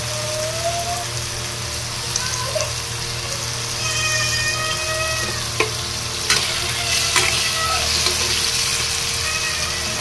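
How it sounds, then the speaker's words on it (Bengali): Onion, tomato and capsicum sizzle steadily in hot white oil, a continuous close frying crackle with occasional stirring clinks and a low background hum. "পেঁয়াজ, টমেটো আর ক্যাপসিকাম দিয়েছি তেলের মধ্যে, সাদা তেলের মধ্যে"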